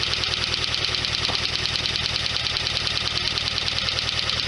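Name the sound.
1991 Lotus Elan engine idling while warming up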